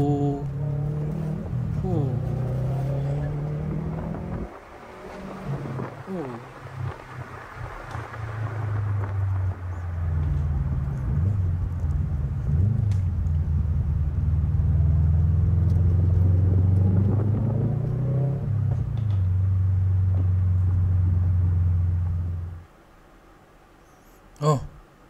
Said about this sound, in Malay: Sedap sangat dia punya bunyi enjin dia tu.